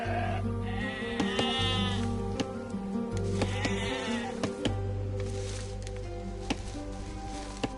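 Sheep bleat in the Age of Empires 2 video game, several short wavering calls over a steady game backdrop with clicks and small effects.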